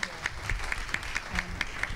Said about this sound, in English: Can we give them a round of applause and a standing ovation for their good work?